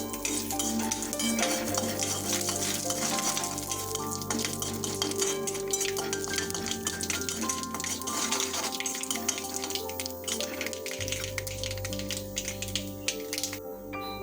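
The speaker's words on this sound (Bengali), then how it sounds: "কালো সরষে ব্যবহার করেছি, এটাকে মিনিট নাড়াচাড়া করে নেব।" Black mustard seeds are stirred in a hot pan, a close, busy scraping and rattling of the spoon with light crackling of tempering seeds, continuous throughout with no talk.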